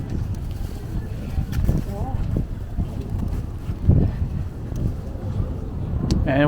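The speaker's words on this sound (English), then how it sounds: "we are walking into the wind for this whole walk" Wind buffeting the microphone while walking along 5th Avenue in Sunset Park, Brooklyn, on a chilly day: a loud, constant low rumble with gusts, mixed with street noise.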